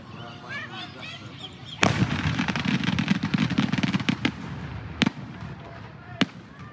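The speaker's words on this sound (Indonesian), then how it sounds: "sebuah balon udara yang dipasangi ribuan petasan meledak saat diterbangkan" Dense crackling barrage of thousands of firecrackers fitted to a hot air balloon bursting rapidly, with a few sharper louder bangs standing out near the end, outdoors and fairly close.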